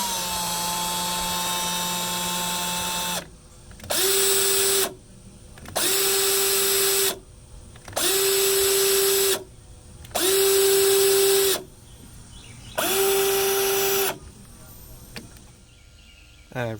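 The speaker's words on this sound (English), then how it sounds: "I'm going to try and simulate that with the drill to confirm and make it dance a little better." A Hyundai Accent vehicle speed sensor spun by a power drill: five short, even bursts of high whirring, each about a second long, separated by pauses, following a longer steady tone at the start.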